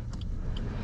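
A car engine catches and settles into a steady close idle rumble, brief and fairly loud, with no voices.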